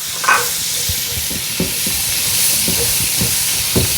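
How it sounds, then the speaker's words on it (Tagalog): Garlic sizzles and fries in a pan for Kapampangan pork asado, a steady hissing sizzle with intermittent scraping and stirring clicks, close and fairly loud. "sasabayan na natin ng paggisa o paglalagay ng bawang"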